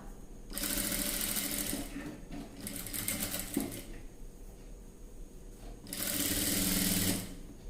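A sewing machine stitches piping thread onto a blouse neckline in three bursts of rapid mechanical chattering, separated by short pauses with faint handling, close and clear.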